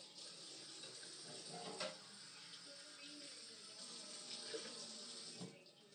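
Hot water running from a tap to rinse stinging nettle leaves in a kitchen, a steady continuous splashing stream with a few brief clunks over it.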